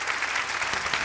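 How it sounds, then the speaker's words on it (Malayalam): A studio audience at a comedy show claps in loud, dense applause, steady and unbroken, with no talk over it. "നല്ലത് പറയുമ്പോ കയ്യടി വേണോ? കൈയടിച്ചു"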